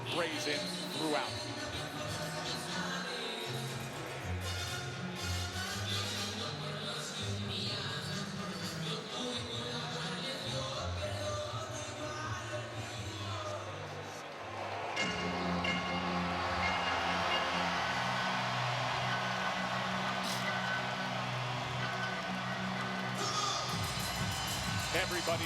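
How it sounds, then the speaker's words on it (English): A large boxing arena crowd booing Jose Benavidez Jr. in a bout against Terence Crawford, a dense sustained roar that swells louder partway through, with a commentator talking over it. "A tidal wave of boos crashing down on him right now"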